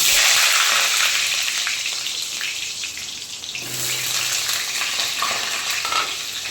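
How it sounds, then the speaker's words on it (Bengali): Potato pieces fry in oil in a wok, giving a loud, dense, continuous hiss and sizzle that dips briefly, then swells again with light stirring clatter and no voices. "কড়াইয়ে পরিমাণ মতন তেল দিয়ে দিয়েছি, এবার আমি আলু কটা ভেজে নেব।"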